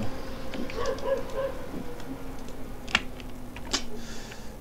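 Dogs in the game Minetest bark a few times, short sharp yaps over a steady background tone and light clicking.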